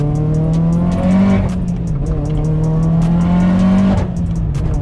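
A Mitsubishi Evo engine droning loudly from inside the car as it's driven, the pitch rising and then dipping as the gear changes, with steady road noise and no voices.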